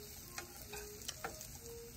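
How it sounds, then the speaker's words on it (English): Sausage and onions, later joined by apples, sizzle quietly in a frying pan with a soft steady hiss and a few light clicks and taps from stirring, faint and close, with no talk. "You can hear them sizzling."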